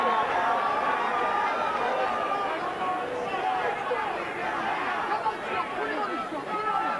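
A boxing arena crowd swells into a loud, continuous roar of overlapping voices and chatter, heard close and sustained, rising with excitement during the bout.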